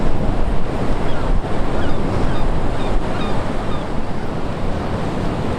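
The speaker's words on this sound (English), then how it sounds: "It's a southerly wind, so it's blowing up towards me to where I'm walking," Strong southerly wind buffeting the microphone while walking outdoors near the sea, a loud, constant roar with gusty rumble and no clear pauses.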